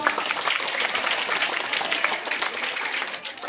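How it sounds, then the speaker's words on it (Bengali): A school audience claps for prize-winning girls, a dense, loud burst of applause from many hands that holds steady, then thins and fades toward the end. "হাততালি দিয়ে অভিনন্দন জানাও"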